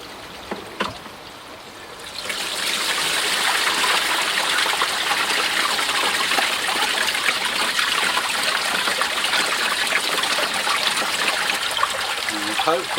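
Water rushes into a pond sieve filter, starting after about two seconds and then continuing as a loud, steady, broadband gushing flow close by until the end.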